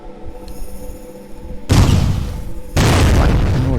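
Heavy booming blasts from the guided leg cannon in Blood Will Tell, two loud, sustained roaring bursts that start abruptly one after the other over a low rumbling game background.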